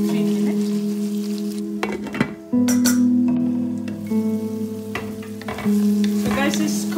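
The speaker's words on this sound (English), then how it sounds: "Next I'm going to add Garm Masala, fresh coriander leaves, then mix." Spiced lamb mince with garam masala and fresh coriander stirred in a pan for stuffed peppers: loud, continuous frying sizzle broken by repeated scraping and clinking of a utensil against the pan, with no voices.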